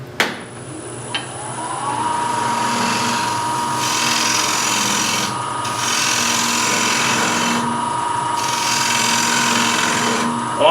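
A power tool steadily flattening the face of a wooden platter in a woodworking shop, a loud continuous whirring grind that runs almost throughout after a couple of brief knocks at the start.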